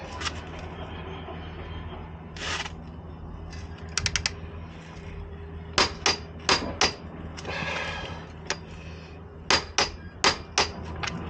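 A wrench tightens the rear wheel of a KTM 390 Adventure motorcycle after a rear hub damper swap, heard as scattered metallic clicks and clanks, some in quick bursts, fairly faint against a quiet workshop hum.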